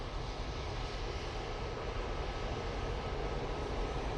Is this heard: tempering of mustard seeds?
no